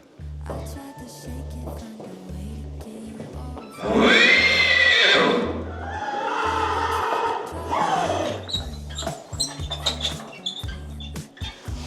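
A horse neighs loudly in a long, shrill whinny, followed by a second rougher whinny, over soft rhythmic thumping and scattered stable noises.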